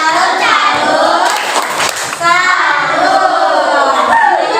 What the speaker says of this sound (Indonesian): Ya, kita beri apresiasi dengan tepuk salut.